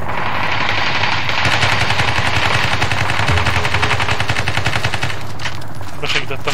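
Loud gunfire in the video game Ring of Elysium: rapid automatic bursts that fire nearly nonstop, up close and sharp, with a few louder cracks near the end.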